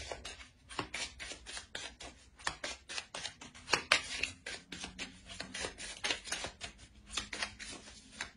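Tarot cards handled and laid out on a table during a reading: a steady run of close, crisp card slides, flicks and shuffling rubs in irregular rhythm, with no talk.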